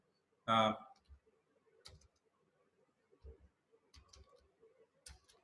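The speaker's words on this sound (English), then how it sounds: "I'm just typing and doing enter" A few sparse, soft keyboard clicks spaced out over several seconds in a quiet room, after a brief burst of voice at the start.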